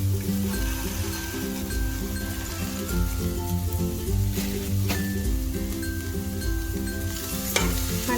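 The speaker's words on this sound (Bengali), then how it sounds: "কড়াতে নারকোলটা দিয়ে দিয়েছি, এবার চিনিটাও দিয়ে দিই একসাথে।" Grated coconut and sugar sizzle and fry in a wok for coconut laddu, a continuous close crackle with scraping and stirring clinks throughout, fairly loud and steady, with no talk.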